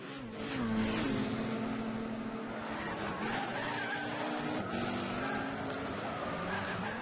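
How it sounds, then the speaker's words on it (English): Race cars lap the Suzuka circuit in Gran Turismo 6, engines droning loud and steady as several cars battle closely, with shifting pitch and occasional tire noise throughout. "that allows Chula to get involved for a little three-car battle for fourth place"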